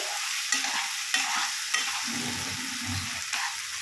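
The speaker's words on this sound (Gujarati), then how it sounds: "આપણે આમાં ડુંગળી મરચા બટેકા ટામેટા વગેરે નાખી દીધું છે" Onion, chilli, potato and tomato fry in hot oil for Maggi noodles, filling the space with a loud, dense, continuous sizzle, while a spatula scrapes the pan in a few distinct strokes nearby.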